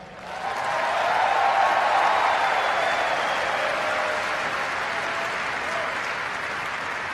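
Sustained applause from a large crowd, swelling quickly and holding steady throughout.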